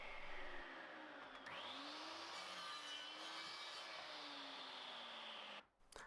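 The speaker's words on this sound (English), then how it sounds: "my 5mm grooving blade and I can start making some cuts" A 5mm grooving blade cuts grooves into plywood, producing a continuous whining, grinding rasp with shifting pitch as the blade bites the wood, mixed with a vacuum-like roar of dust extraction, close and loud, ending abruptly.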